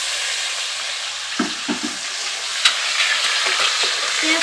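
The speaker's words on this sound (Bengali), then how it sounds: "এখন আমি পেঁয়াজ কুচি দিয়ে দেবো।" Chopped onions go into hot oil with whole spices for a spicy-sour crab curry, frying with a steady close sizzle and occasional stirring knocks and scrapes, no talking.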